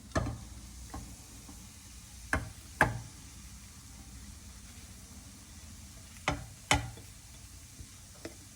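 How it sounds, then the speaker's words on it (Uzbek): Mint being stirred in a cooking pan for chuchvara, a faint sizzle underneath with several sharp scraping and knocking clicks from the utensil spaced irregularly across the stretch, no voices. "Endi yalpizni aralashtiraman."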